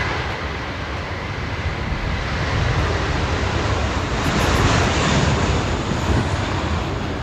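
An airplane lands on runway 16 right at Sydney Airport, producing a steady, broad rumbling roar that swells slightly toward the middle and then holds. No voices are heard.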